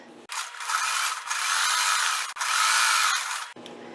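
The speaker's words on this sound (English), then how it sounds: "I'm going to sew down this side and then across the bottom" A sewing machine stitches down the side of a Dollar Tree tote bag, its steady close whirring running in three long bursts separated by two brief pauses before stopping.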